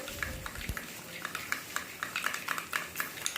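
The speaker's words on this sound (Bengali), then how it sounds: "দইটাকে বেশ কিছুক্ষণ ধরে ভালো করে ফেটিয়ে নিচ্ছি" A spoon stirs and whisks yogurt mixed with spices in a bowl for an okra dish, giving quick, rhythmic scraping clinks that repeat steadily at close range with no talk.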